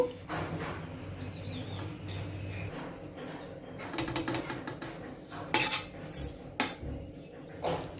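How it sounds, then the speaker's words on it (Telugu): Pulao rice served from a pot onto a plate in a home kitchen: scattered metallic clinks and scrapes of a spoon against the vessel and plate, sharper clusters near the end, fairly faint and close with no talking. "ఇప్పుడు ఇలా ప్లేట్లోకి డిష్ అవుట్ చేసేసుకుందాము"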